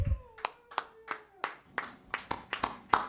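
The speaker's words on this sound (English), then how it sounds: "Big round of applause for Nick." Sparse hand claps from a small audience at a community arts event in Lawrence, Massachusetts, a dozen or so distinct claps in a loose, uneven rhythm, fairly close and not building into full applause.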